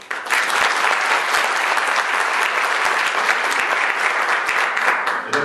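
An audience at a formal French embassy address in Lebanon breaks into sustained, dense applause, loud and continuous from start to finish with no talk.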